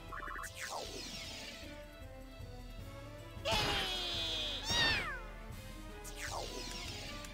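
Cats meow in the Disgaea 4 video game, several separate rising and falling cries spread across the stretch, with a sharp hit or crash in between, over a low steady game backdrop and no speech.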